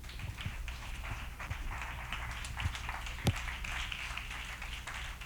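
A church congregation claps during a service, a steady spread of hand claps at moderate distance with occasional louder thumps and no clear speech.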